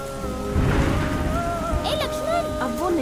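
Steady rain hisses across the whole stretch in a film scene, with a low rumble early on and people speaking over it.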